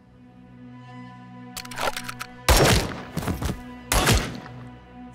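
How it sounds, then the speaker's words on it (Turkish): Gunfire in a TV drama: a few sharp bursts of shots and loud cracks over several seconds, with a lower hum underneath and no clear speech. "Silah sesleri!"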